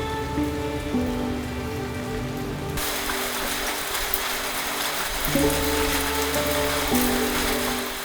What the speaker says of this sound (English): the rain has just been absolutely unrelenting